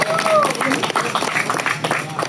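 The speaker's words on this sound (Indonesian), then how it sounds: "Tepuk tangan dulu untuk master kita." Audience applause for a bonsai master at the end of a live bonsai demonstration, a dense clapping wash running throughout with voices talking over it.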